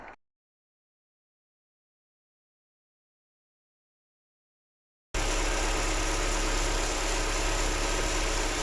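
A short blip, then about five seconds of silence, then a Mercedes M111 car engine with its old crankshaft position sensor idling steadily and loudly with a constant low rumble.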